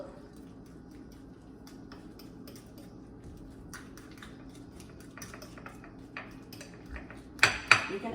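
Deviled egg filling with spice being mixed in a bowl, soft scraping and stirring with a few sharp clinks of utensil against the dish, growing louder toward the end.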